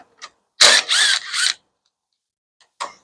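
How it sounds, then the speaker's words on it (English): Ratchet wrench fitted with an 8 mm socket working brake bracket bolts loose on a Lexus LX470 rear brake job: a few short, loud bursts of clicking near the start, then quiet, with one brief click near the end. "Okay, 8 millimeter socket. Remove this bracket."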